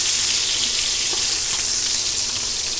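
Food sizzles and fries steadily in an oiled frying pan while browning, with a constant close hiss and no talking.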